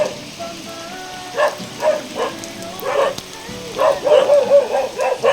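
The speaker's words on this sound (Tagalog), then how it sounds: "Lakas na po ng ulan." Steady heavy rain pours down in a forest while a dog barks repeatedly nearby, its barks rising above the constant patter.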